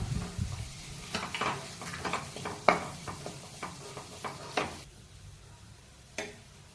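A spatula stirs and scrapes mashed potato around a pan, with irregular clinks and taps over a soft, steady sizzle.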